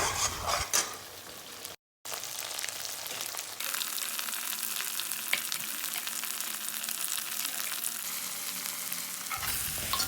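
Ground onion, ginger, garlic and tomato paste fry in hot oil with a steady, close sizzle and occasional stirring scrapes, broken by a brief moment of silence, with no talking.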